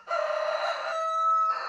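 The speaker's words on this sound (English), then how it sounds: "This rooster just isn't needed on the farm." A Murray's Big Red rooster on a farm lets out a single loud, close cock-a-doodle-doo crow, drawn out and wavering, with nothing else heard.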